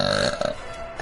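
A girl playing a video game lets out a loud, throaty burp that rumbles for about half a second, followed by faint vocal noise.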